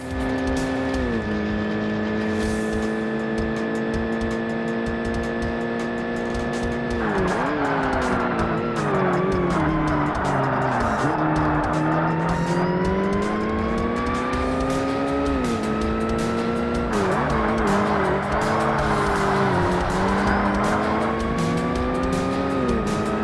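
Race car engine in the video game Forza Motorsport (2005), a loud continuous roar that climbs through rising revs, drops at each gear shift and climbs again, with tire squeal mixed in.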